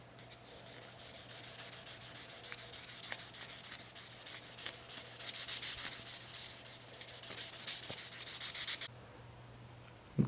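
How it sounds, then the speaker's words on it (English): Worn 2000 grit sandpaper rubbing over an etched Damascus steel knife blade, a steady close scratching swish in quick repeated strokes that builds for several seconds, then stops abruptly before a brief knock at the end. "I'm going to need to sand it with a little bit of worn out 2000 grit sandpaper to bring out the contrast"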